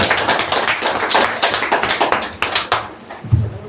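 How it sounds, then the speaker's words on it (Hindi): An audience claps for a few seconds, a quick, uneven run of hand claps that fades toward the end. "स्पिना के लिए जोरदार तालियां होनी चाहिए"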